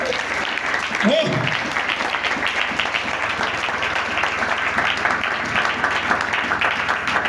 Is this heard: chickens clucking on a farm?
no